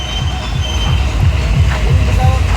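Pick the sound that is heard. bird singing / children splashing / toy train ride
toy train ride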